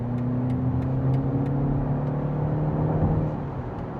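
A BMW 530e plug-in hybrid's engine hums and revs steadily up close as it accelerates in sport mode, a continuous mid-pitched drone that eases off slightly toward the end.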